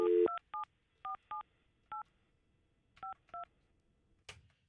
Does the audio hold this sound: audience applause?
no